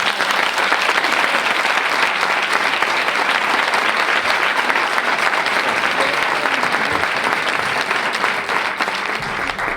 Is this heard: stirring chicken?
no